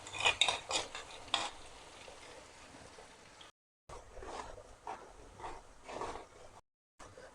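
Chopped onions, three of them, fry and get stirred in a pot while a dal mash is cooked: scraping spoon strokes and clinks sound in quick bursts over a soft sizzle, with two short gaps of silence.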